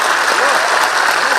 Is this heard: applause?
yes